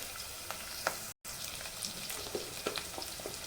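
Vegetables sizzle in hot oil with onions in a pan for sambar, a steady close crackling fry with small pops and a brief dropout, no voices.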